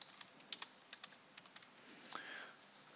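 Typing on a computer keyboard while entering project details in SEO project management software, a quiet, irregular run of crisp, close key taps with a brief flurry near the end.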